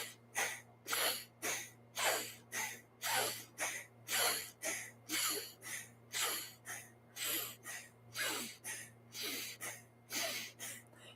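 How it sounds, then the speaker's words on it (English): Rapid alternate-nostril breath of fire in a Kundalini yoga kriya, about two dozen powerful rhythmic sniffs and forceful exhales through the nose, close and steady with no talking. "it's a powerful sniff in through the left and a powerful exhale through the right nostril"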